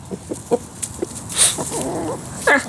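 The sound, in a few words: chickens clucking in chicken yard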